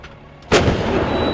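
An artillery gun fires a single loud, close blast with a sharp onset, followed by a long rumbling, echoing decay.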